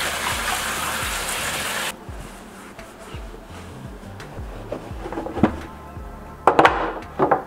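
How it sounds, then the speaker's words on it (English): Cabbage is rinsed under a running kitchen tap, a steady rush of water that cuts off after two seconds, followed by scattered knocks, clinks and splashes of handling the leaves. "And I'm gonna rinse off the cabbage."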